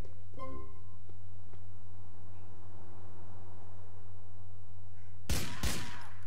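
A steady electronic hum runs under faint noise, then a short loud burst of rapid gunfire in GTA 4 near the end, shots hitting a car.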